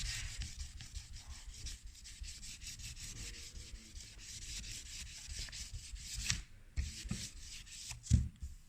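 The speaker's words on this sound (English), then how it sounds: "I'm now sanding them all flat, ready for this to be resprayed once again" Steady close rubbing of sandpaper flattening lacquer on a Nardi wooden steering wheel during restoration, a continuous scratchy back-and-forth that runs throughout with a couple of brief bumps near the end.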